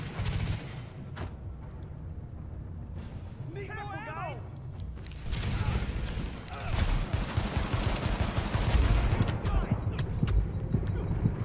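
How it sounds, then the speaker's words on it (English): Sustained gunfire in Tom Clancy's The Division, rapid bursts and single shots that build louder toward the end amid game noise, with someone talking over it. "Wait, I'm getting shot again."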